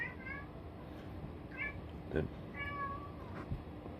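A house cat meows several times in a room, with short, rising cries that are fairly close. A person speaks briefly between them.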